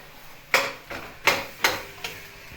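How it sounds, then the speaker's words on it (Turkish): Spoon stirring food in a pot on a stove in a village kitchen, four or five distinct scraping strokes spaced about half a second apart, close and moderately loud with no talk. "Ulan Murat abim ocağın başında yemeğe karıştırıyor."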